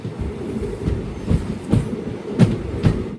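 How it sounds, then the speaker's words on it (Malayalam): Amritha Express train running at 110 km/h, a constant inside-carriage rumble broken by four or five sharp rhythmic clickety-clack wheel beats over the rail joints. "ട്രെയിൻ ഇപ്പോൾ 110 km/h സ്പീഡിലാണ് പോയിക്കൊണ്ടിരിക്കുന്നത്"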